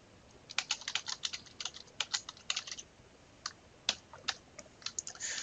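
Code being typed on a computer keyboard, with bursts of quick, close clicking keystrokes broken by short pauses, no voices.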